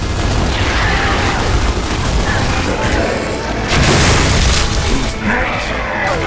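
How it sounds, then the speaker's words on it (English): A lambent enemy bursting apart in Gears of War 3, heavy booming blasts and crashing debris with a louder explosion near the middle, over constant gunfire and game noise. "lambent enemies explode when killed"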